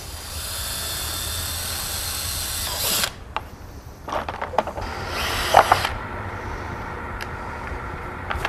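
A cordless drill whirs in several short bursts, making holes for an operating box, with clicks and handling noises between them against a quiet background hum.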